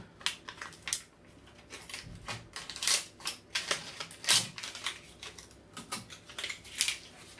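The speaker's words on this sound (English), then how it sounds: "Take off the double-sided tape," Double-sided tape peeled in short ripping strips off a tube, a quiet series of crackly tearing bursts at irregular intervals, close up with no talking.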